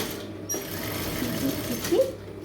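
Sewing machine stitching canvas for a star neck, a loud, close mechanical whir running continuously, with a person speaking over it.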